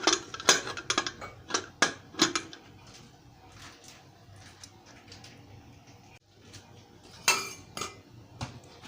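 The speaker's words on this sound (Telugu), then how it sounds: "ఇప్పుడు కుక్కర్ మూత పెట్టేసుకోవాలి" A pressure cooker lid being set in place over tomato dal, with a handful of sharp metallic clinks and clatters in an irregular burst near the start, then a quieter stretch and one more clank, without talk.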